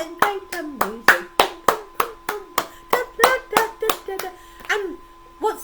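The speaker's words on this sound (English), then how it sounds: "Clap your hands and create some music." Close, loud hand claps in a steady rhythm, about sixteen sharp strikes spaced roughly a third of a second apart, with a faint voice or tone lingering between them.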